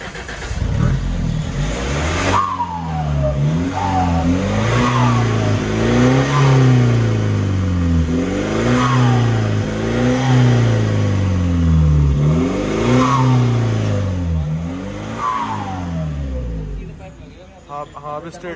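A close, throaty Mahindra Scorpio S11 engine with its mid silencer removed revs hard again and again, about six rising-and-falling blips in a steady rhythm with a raw, unmuffled straight-pipe roar.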